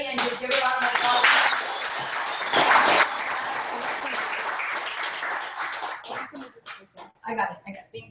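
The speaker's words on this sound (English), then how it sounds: "just give her a round of applause" A room full of people applauds for Elaine at a leadership mastermind event: loud, close clapping with cheers, gradually thinning into scattered claps, with voices talking over it near the end.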